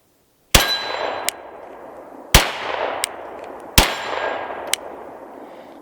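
Three sharp pistol gunshots, evenly spaced about 1.5 seconds apart, each followed by a long ringing decay and a fainter metallic clink from the steel target, heard alone with no talking.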